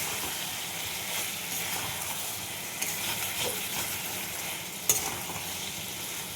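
Masala spice paste stir-fried in a pan for a snakehead fish and bottle gourd curry, giving a steady close sizzle and frying hiss with soft stirring scrapes and a couple of sharp clinks.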